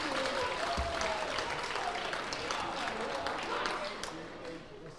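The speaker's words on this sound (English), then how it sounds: "Big applause for the Zebra game." Sustained audience applause at a sports event for the referees of an NSL Challenger Series game, loud and dense throughout with faint crowd murmur and some speech mixed in, tapering slightly toward the end.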